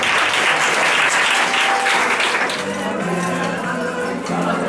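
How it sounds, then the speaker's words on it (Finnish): Audience clapping at a Finnish eight-event student competition news segment, a dense burst of applause that fades out after a couple of seconds, leaving a low steady hum of indoor background noise. "Aplodia tännekin."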